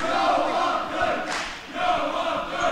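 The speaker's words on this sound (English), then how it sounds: "really getting appreciation from the crowd right now" Crowd noise fills a gym at a varsity high school basketball game, with fans cheering for a player, a loud, steady roar that surges and dips.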